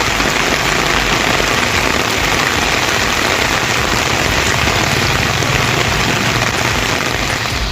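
Heavy rain pours down in Chennai, Tamil Nadu, making a loud, dense, continuous hiss of drops hitting surfaces, with a faint low engine idling underneath.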